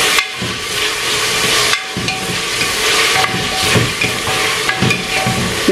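Chopped tomatoes sizzle and fry in an oiled pan for biryani, a loud close hiss broken by short stirring scrapes and brief pauses as the spoon moves through them.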